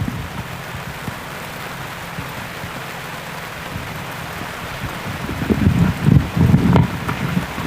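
Steady rain falls outdoors at a memorial gathering, a constant close hiss with some louder rumbling gusts near the end.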